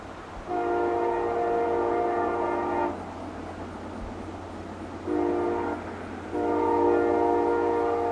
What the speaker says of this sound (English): Sound really carries on that awesome horn.